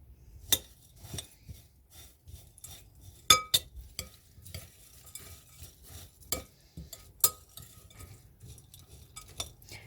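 Bombay mix with cheese and lemon juice is stirred in a bowl, giving sparse dry rustles and sharp clinks of a utensil against the dish, close and quiet, with no talk.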